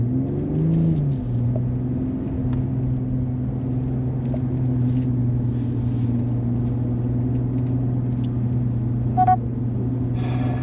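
A BMW M340i drives onto a wet race track at a BMW driving centre. A steady, close engine drone is heard from inside the car, with a brief rise in pitch at the start before it settles into an even rumble.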